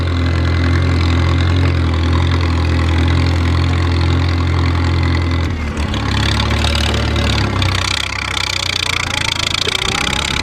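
A tractor engine with a big bore kit and finicky carburetor, running rich, idles loudly and steadily, its low rumble shifting in tone about halfway through before settling back into an uneven idle.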